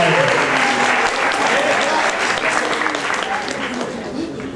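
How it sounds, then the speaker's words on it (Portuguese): Sustained audience applause at an academic labour seminar in a university hall, steady and fairly loud throughout, with a voice briefly audible through the clapping as it begins to taper off. "palmas para o Esdras."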